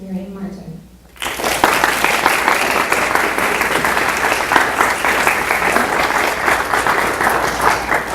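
An audience at a talk on religious life breaks into loud, sustained applause to welcome Sister Miriam Martin. The clapping starts after a brief spoken introduction and continues evenly to the end.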